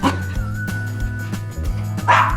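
Dog whining and yipping for a treat while its owner prepares to leave home, with repeated whimpers and short yips close by over a steady low background hum.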